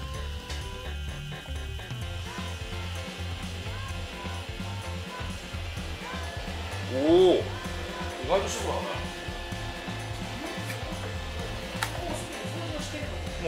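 A robot vacuum cleaner working its way across carpet in a home, a steady mid-level whirring hum running throughout, with a person's voice heard briefly over it.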